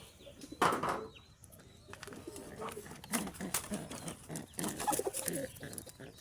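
Pigeons cooing and shuffling inside a breeder's loft, soft repeated coos with occasional wing flaps and rustling, close by and moderately loud throughout.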